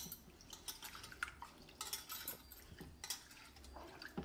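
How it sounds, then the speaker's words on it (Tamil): Water poured over moong dal in a bowl to rinse it while making Chettinad ukkarai sweet: quiet trickling and dripping with light clinks of utensils, close and faint, with no talking. "இப்போ நம்ம தண்ணி ஊற்றி நல்லா இவங்களை கழுவிடலாம்."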